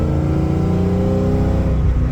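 A Ford EFI 460 V8 pulls hard in third gear through an aftermarket exhaust, a steady loud rumbling drone rising gradually under acceleration throughout.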